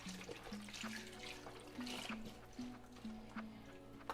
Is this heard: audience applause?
no